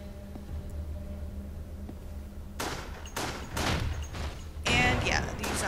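Handgun fire in the zombie game Resident Evil Darkside Chronicles, starting after a quiet stretch with a low hum, then several sharp close shots in an irregular rhythm, the last one loudest.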